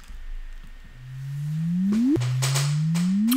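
Gravitational wave chirp from a neutron star merger rendered as audio: a low tone sweeps upward into a whoop, then repeats, fairly loud over faint background hiss.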